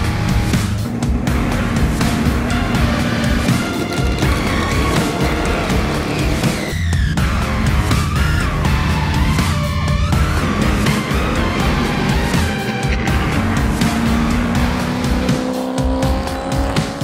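Race cars roar around the Sibrin circuit, engines revving and shifting up and down in loud, overlapping sweeps with occasional tire squeal, sustained and close throughout.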